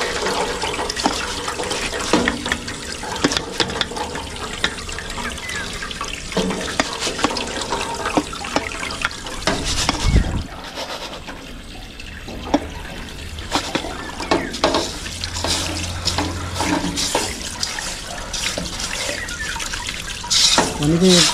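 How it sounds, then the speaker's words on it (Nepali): Water runs steadily over a soil sample, washing out fine clay for a clay content test, a continuous splashing gush with dripping, close and loud throughout, while a voice talks over it. "यो अहिले क्लेहरूले गर्दाखेरि धुलो पानी गइरहेको छ।"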